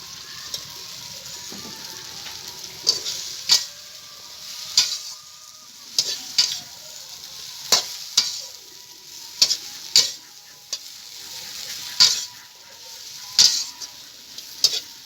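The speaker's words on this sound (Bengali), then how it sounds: "মশলাটা কষানো হয়ে গেছে, এবারে ধুয়ে রাখা কচুর লতিটা দিয়ে দেবো।" Washed taro stolons frying in a pan with cooked-down spice masala, a steady close sizzle broken by sharp, regular clacks of a spoon or spatula against the pan every second or so.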